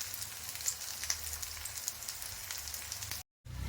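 Aval vadai frying in hot oil in a pan for an evening snack, a steady close hiss with scattered crackles that continues alone before a brief cut.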